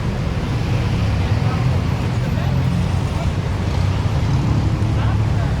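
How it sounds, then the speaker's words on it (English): Continuous street traffic hum in Bangkok's Asok and Phrom Phong district, a dense low rumble of engines and vehicles passing steadily, fairly loud and unbroken throughout. "traffic here is a big problem."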